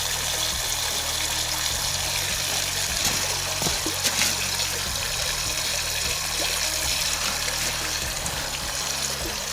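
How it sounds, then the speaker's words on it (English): Water trickles and gushes steadily out of a Riverdance Mini Jig gold sluice, a continuous close splashing flow with no voices. "It's got the water maybe coming out again."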